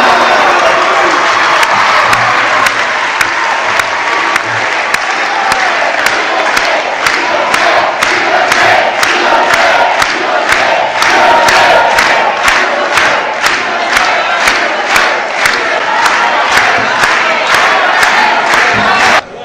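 Party congress delegates cheer and shout in a loud, dense crowd roar that runs without a break, with rhythmic clapping and whistles building through the middle and continuing to the end.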